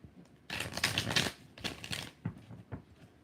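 Tarot cards being shuffled by hand, close riffling bursts of rapid papery flutters followed by a few softer separate taps and slaps of the deck, with no voices.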